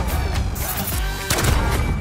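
Gunfire in the video game Call of Duty Modern Warfare sounds amid dense, loud game audio, with a heavy burst of impacts near the end of the short stretch.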